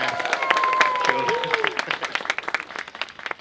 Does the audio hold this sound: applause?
yes